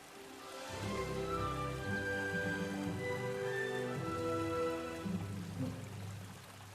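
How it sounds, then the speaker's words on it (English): Magic rain falling in the video game Lonesome Village, a steady dense patter of drops that starts abruptly and holds evenly under layered game music tones. "Let's make some rain."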